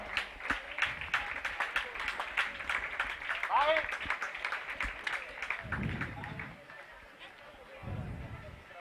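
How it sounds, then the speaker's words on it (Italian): Audience applause for young athletes at an Italian national athletics meeting award ceremony: dense, steady clapping carried through the clip, with a voice rising briefly over it and low rumbling bursts near the end. "Chiedo al pubblico un forte applauso di premiazione e incoraggiamento per questi giovani atleti."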